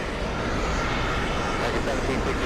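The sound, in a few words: airplanes at JFK airport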